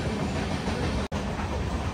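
Gouthami SF Express running overnight makes a dense, steady rumble heard from inside the coach, broken only by one very brief dropout near the middle.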